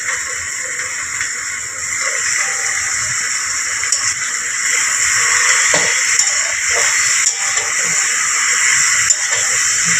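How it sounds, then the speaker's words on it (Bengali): Chicken frying with onions in a pan gives off a steady, close hiss and sizzle, with a few faint clinks of utensils over it. "একটু চিকেনটা একটু পেঁয়াজের সঙ্গে ফ্রাই করে নেওয়া হচ্ছে।"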